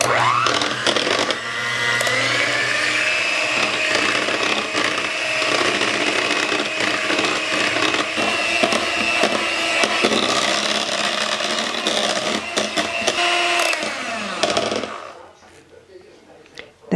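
An electric mixer whips cream to stiff peaks for a no-bake blueberry cream pie, a loud steady motor whir that runs continuously, then cuts off near the end.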